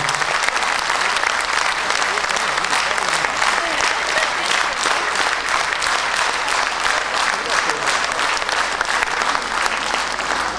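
An audience claps continuously and densely through a commemorative stage event, a steady, full roar of applause that neither builds nor fades.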